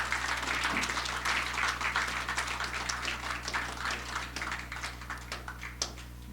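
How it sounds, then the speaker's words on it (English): An audience applauds a steel pan performance at the opening of a carnival museum exhibition in Trinidad and Tobago, with sustained clapping that slowly thins out over a steady low hum. "Let's give the steel pan a beautiful round of applause."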